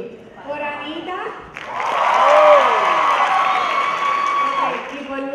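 A room of students claps and cheers to vote for a presenter named Anita, starting with a voice over quieter noise, then swelling into loud applause with whoops and shouting that holds steady to the end.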